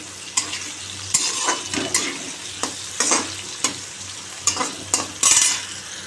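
Bay leaf, whole cumin, potato and green chilli frying and being stirred in a pan, with steady close sizzling and repeated scraping stir strokes throughout.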